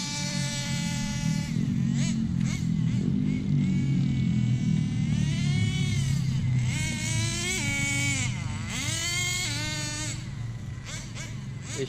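HPI RC car accelerating with a climbing whine that drops and rises again as its two-speed gearbox shifts on a 3S battery, close and loud, with people talking over parts of it.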